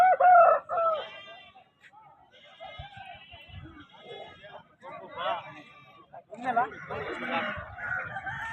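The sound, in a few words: roosters crowing at Punganur fighting-rooster market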